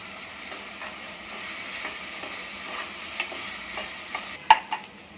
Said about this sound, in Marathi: कांदा पण थोडासा सोनेरी होईपर्यंत परतून घ्यायचं